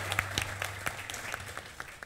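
Studio audience clapping on a comedy talk show, with moderate, fairly steady applause and a few sharper individual claps standing out near the start.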